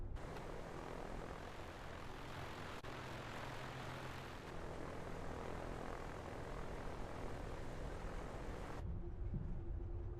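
A twin-engine A2A Aerostar in a flight simulator taxis with a steady, close propeller-engine drone that holds evenly throughout, then drops to a lower rumble in the final second.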